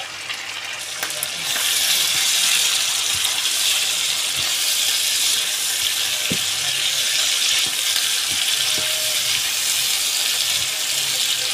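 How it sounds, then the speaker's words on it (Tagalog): Kangaroo meat sizzles steadily in a pan for kaldereta, a continuous bright frying hiss that swells after the first second and holds, with occasional soft clinks and scrapes. "Italbog na ang kangaroo meat."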